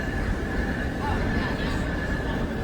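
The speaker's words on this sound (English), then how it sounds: "That was a different train on the other side." A train rolls past on the far side of a railway station platform, on a route back to New Jersey. It makes a dull, continuous rumble with a faint tonal hum, steady throughout, under a low murmur of the surroundings.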